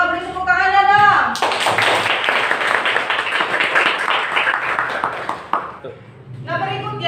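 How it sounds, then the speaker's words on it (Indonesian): An audience of classmates claps for a group that has just presented in an Indonesian classroom: a dense, steady burst of applause lasting about five seconds, with a teacher's voice speaking just before and after. "Beri tepuk tangannya dong."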